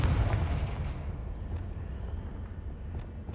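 A Confringo fire spell explodes in Hogwarts Legacy, opening with a heavy boom that rolls into a long rumbling, crackling tail, with a few faint pops scattered through the decay.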